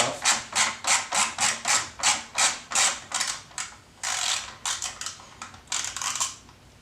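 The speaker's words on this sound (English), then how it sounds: "take off your two bolts for your air scoop here. They're going to be 5mm Allen bolts." Rapid ratchet clicks in regular bursts as 5mm Allen bolts are backed out of the air scoop on a Yamaha Warrior 1700 motorcycle, close and crisp, with the pace breaking up toward the end and no talking.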